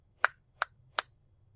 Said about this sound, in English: Can you snap your fingers when you do this?